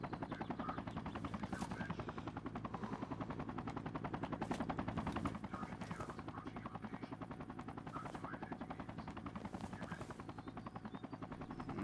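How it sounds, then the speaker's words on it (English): Helicopter in the Sniper: Ghost Warrior 3 video game on PS4, a steady rapid rotor chop droning throughout at moderate level, with occasional sharp gunfire-like bursts layered over it. "What this chopper doing?"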